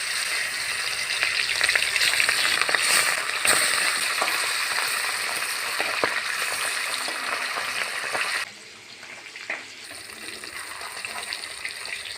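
Hilsa fish pieces rubbed with salt and turmeric fry in hot oil in a village kitchen, a loud, continuous sizzle with scattered crackles that drops suddenly to a softer hiss near the end.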